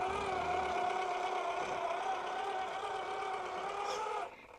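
Redcat Gen9 RC car driving through mulched dirt, its motor whining steadily with a loose, buzzing rattle throughout, close and fairly loud before cutting off sharply near the end.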